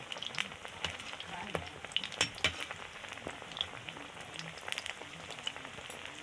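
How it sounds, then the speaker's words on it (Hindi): Cabbage pakora fritters frying in hot oil on a gas stove, giving a steady, close bubbling sizzle with scattered pops and crackles and the occasional stir. "तो देखिए गैस मैं अब फ्राई करना स्टार्ट कर दी हूँ"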